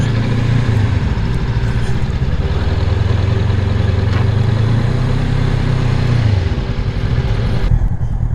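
A Honda NX500 motorcycle engine idles steadily while the bike is parked, a close, loud, continuous low rumble with a slight swell in the middle before the sound thins near the end.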